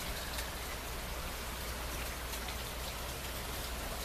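Rain pouring through a house gutter after a day of off-and-on showers, a dense, steady hiss of falling water and drips that holds constant throughout with no voices.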